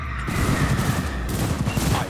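Dense, rapid gunfire erupts in the video game Cyberpunk 2077, a loud, continuous fusillade of overlapping shots that crackles close by for a couple of seconds.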